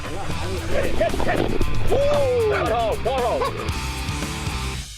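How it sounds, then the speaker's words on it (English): Hog-hunting dogs bark and yip excitedly nearby in Florida, several sharp barks and whiny cries overlapping with someone talking. "We're just walking the dogs right now, trying to catch a center."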